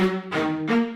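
Three dry synth string chords play in quick succession with the reverb bypassed, each starting abruptly and ending without any lingering echo.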